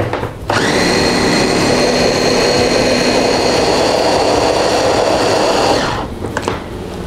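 A kitchen blender whirs loudly and steadily as it purees barramundi fish meat with water. The high motor whine starts abruptly after a moment, holds for about five seconds, then cuts off and leaves quieter handling noises.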